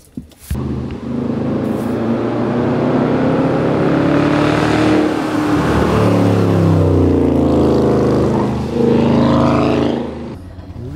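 Vehicles pass by continuously on a mountain road at Deals Gap, the Tail of the Dragon, engines rising and falling as they approach and recede, fairly loud and close, with no talk over them.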